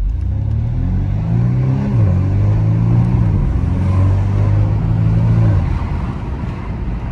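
A BMW M135i engine in sport mode hums steadily and loud, pitch rising and shifting as it revs, with a soft turbo whoosh layered over the drone.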